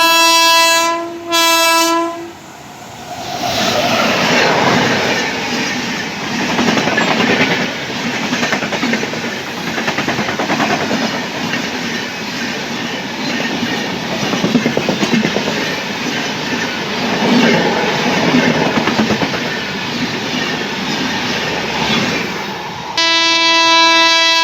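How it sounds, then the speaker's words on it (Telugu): A passenger train with ICF coaches sounds two loud horn blasts, then rumbles past close by for about twenty seconds with a steady roar and rhythmic wheel clatter, ending with another horn blast. "ICF కోచెస్తో train."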